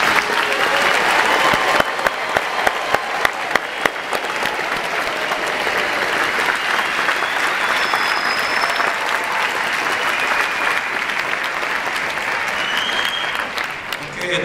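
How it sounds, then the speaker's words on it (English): Sustained, loud applause from a large audience fills a naturalization ceremony hall in San Francisco, a dense wash of clapping that carries on without pause before tapering slightly at the end. "let's give one last applause to all these countries."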